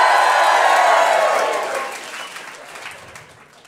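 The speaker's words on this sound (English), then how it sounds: "Give me a cheer if you've ever seen me before." A comedy club audience bursts into loud cheering and applause that swells at first and then gradually fades away, with a few whoops in the mix.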